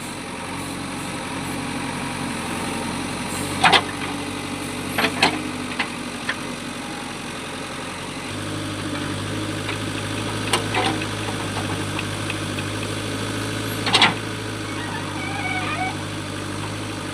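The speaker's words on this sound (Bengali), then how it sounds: "এইটা হলো একটা গাছের শেকড় সেটাকে তোলা হচ্ছে জেসিপিটা পুরো উঠে গেছে" A JCB backhoe engine idles and works steadily while pulling a tree root from the ground, its low rumble shifting to a heavier drone partway through, with a few sharp knocks and clanks standing out.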